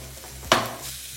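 Onion, garlic and broccoli sizzle in a pan under a close, sharp scrape or clink of a utensil, followed by a soft continuous frying hiss.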